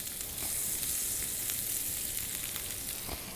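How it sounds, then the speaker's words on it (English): Sauerkraut sizzling in butter on a hot grill, a steady bright frying hiss that holds throughout with light crackles, close up and with no talk over it. "And we're also going to put our sauerkraut on our grill."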